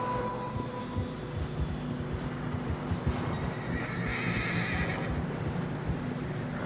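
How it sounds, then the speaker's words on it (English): Horses whinny and neigh in Red Dead Redemption 2 while trudging with muffled, continuous clip-clop steps through deep fresh snow on a narrow trail, a dense steady bed of hoof sound with occasional louder neighs. "Horses are struggling."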